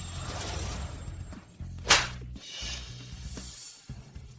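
A single sharp, loud slap to the face cracks out in a tense domestic drama, standing out briefly against a low background hum.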